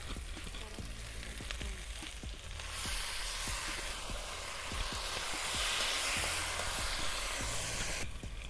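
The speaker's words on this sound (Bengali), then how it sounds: "আমি এবার মেখে নেওয়া সবজিগুলো দিয়ে দিচ্ছি।" Marinated vegetables for a Jatka Ilish (young hilsa) dish go into hot oil in a pan and sizzle steadily at close range, a dense crackling hiss that swells in the middle and runs on alone with no talk.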